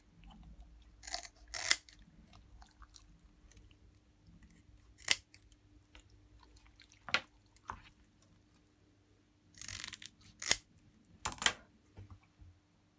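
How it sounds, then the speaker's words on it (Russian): Scissors snip the fins off a cleaned fish, a few short crisp cuts spaced irregularly with quiet handling between them and no talking. "теперь перышки обрезаю"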